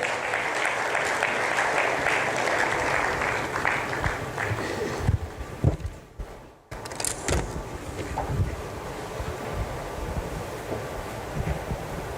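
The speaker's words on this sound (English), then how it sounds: "Please give him a round of applause as he makes his way up here." A crowd gives a round of applause at a book launch in Nigeria as a speaker walks to the podium. The steady clapping fills the room, dips briefly in the middle, then carries on at a similar level.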